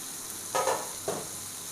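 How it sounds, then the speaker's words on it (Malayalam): Bilimbi pieces drop into a pan of softened tomato, bringing two short bursts of hissing sizzle over a steady low background frying. "ഇനി നമുക്കിതിലേക്ക് ഇരുമ്പുപുളി ഇട്ട് കൊടുക്കാം."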